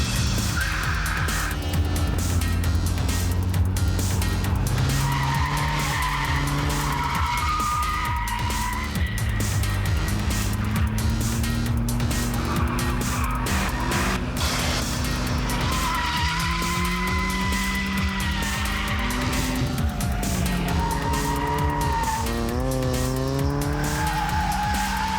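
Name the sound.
Mazda RX-7 drifting with tires skidding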